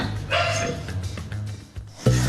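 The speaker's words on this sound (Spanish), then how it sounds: "vaya a ver a su perrito ahí que está ladrando" A small pet dog barks indoors, a few sharp barks standing out over a steady background hum, fairly close and loud.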